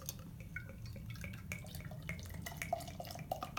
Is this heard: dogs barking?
no